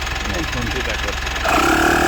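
A digital tyre inflator starts up and pumps air into a tyre with a steady, buzzing motor hum that steps up in loudness partway through, following an engine-like drone.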